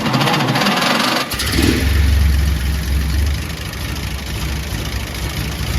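A 1917 American LaFrance Torpedo with a 14-litre engine rumbles close by, a deep low idle that swells and roughens for a couple of seconds before settling back to a steady throb.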